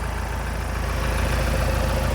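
A Ford Transit engine idles steadily at close range, a continuous low rumble with a faint rhythmic pulse and no talk.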